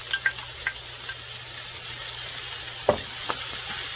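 Green onions and mushrooms sizzle in a frying pan with pork chops and rice underway, a steady close frying hiss broken by a few sharp crackles and stirring clicks, with no talking.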